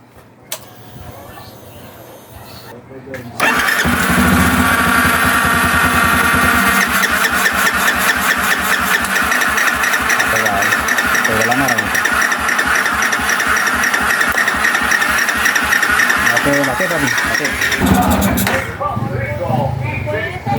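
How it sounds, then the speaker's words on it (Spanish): A Yamaha XTZ 250 motorcycle engine cranks and catches, then settles into a steady, loud idle that runs for a long stretch before dropping off. "vamos a darle la ignición a la motocicleta"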